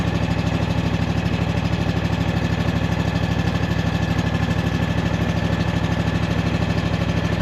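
A motorbike engine runs at a steady, loud, fast-firing pace while revved during a voltage regulator and stator test with the meter on AC; the drone is constant and close throughout, with no voice over it.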